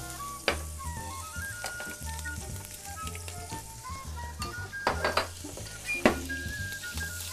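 Butter sizzling in a hot pan while a Dutch stew is cooked, a steady crackling fry with sharp clinks and scrapes of utensils against the pot, close up and without talk.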